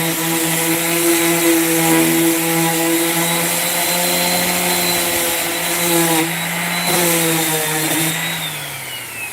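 Wood being sanded outdoors with a power sander: a loud, steady motor whine with a constant pitch that sags slightly as the pad bears on the work, continuous and close with no talk.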